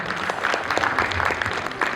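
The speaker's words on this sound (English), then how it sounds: "Can we have a big round of applause for Dr." Applause for Dr. Sharad Lande at a business innovation awards event, a steady, fairly close wash of clapping from an audience filling the whole stretch without pause.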